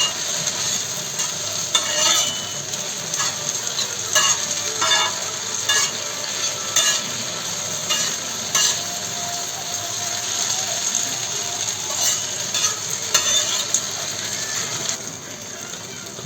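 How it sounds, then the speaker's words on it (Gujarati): Garlic paste fries in a pan with spices for tawa pulao, a continuous loud sizzle broken by repeated scraping, rattling stirs throughout. "લસણની પેસ્ટ નાખી એને પણ થોડી થવા દેવાની, જેથી એની જે કચાશ છે એ દૂર થઈ જાય"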